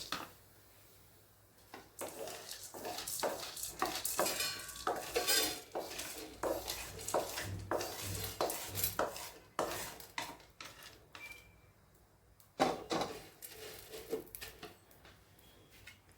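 Ingredients are stirred while roasting in a metal pan, giving repeated scraping and clinking of a utensil against the pan in uneven strokes with a few short pauses, close by and without speech.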